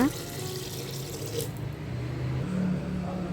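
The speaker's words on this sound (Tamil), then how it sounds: "ஊறினதுக்கப்புறம் அரிசியை தண்ணி இல்லாமல் வடித்து எடுத்துக்கோங்க." Water running and splashing as soaked raw rice is drained, a steady tap-like trickle and pour that continues throughout at moderate volume.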